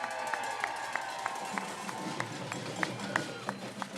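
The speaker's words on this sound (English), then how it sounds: "how about a round of applause for our youth that are here today that are marching for us?" Outdoor rally crowd clapping for marching youth at a Clean Power Plan event, a sustained soft wash of applause at moderate distance with a few sharp, regularly spaced claps standing out and faint voices underneath.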